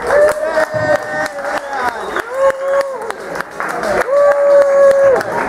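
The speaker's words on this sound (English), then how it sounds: "Ladies and gentlemen, clap it up for Leon Arp." Comedy club crowd applauding and cheering for a comedian taking the stage, steady clapping with sustained whoops riding over it, loud and close.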